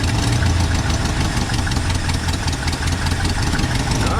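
A 1968 Ford F100 pickup engine idles steadily close by, a loud, continuous low rumble with no pauses and no talking over it.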